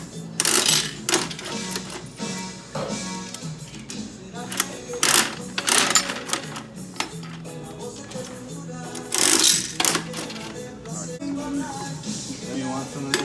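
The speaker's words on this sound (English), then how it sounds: "Some quarters so that we can test out the machine." Quarters going into a vending machine for a test: mechanical clatter, clicks and coin rattles in bursts, close, with people talking over it.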